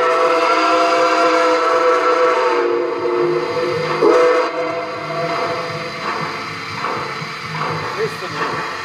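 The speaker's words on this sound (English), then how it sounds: "There's whistle steam for you." A steam locomotive whistle sounds at a train station, a loud sustained multi-tone blast with hiss, persisting through the whole stretch as background voices murmur.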